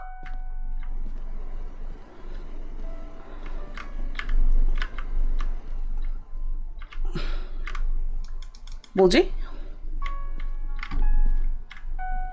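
Keyboard keys clicked repeatedly at a computer inside a horror video game, sparse sharp taps and short bursts over a low hum, with a brief puzzled remark from a player partway through.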